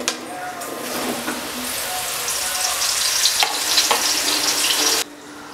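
Mushrooms frying in hot oil with garlic, mustard seeds, cumin and red chilli, giving a loud, steady sizzle with some stirring that cuts off abruptly near the end.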